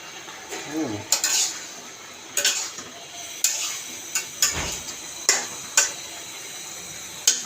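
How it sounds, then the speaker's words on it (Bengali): A metal pot lid lifted off a simmering pot of egg curry, with sharp clanks and scrapes of metal, light clinks and a faint sizzle beneath, no talking. "তো ঢাকনাটা উঠায় দেখি তরকারিটা হয়েছে কিনা, ডিমের তরকারি।"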